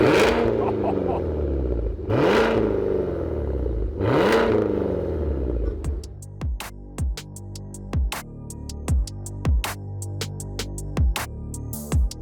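Corvette-derived engine of a Cadillac Escalade-V luxury SUV revving hard: three long rising-and-falling throttle sweeps, then a quick series of sharp blips, each with a crackle, loud and close with no talk.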